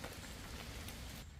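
Steady rain falls outdoors onto a wooden deck, giving a soft, dense hiss of drops with no break, fairly faint and continuous until it thins near the end.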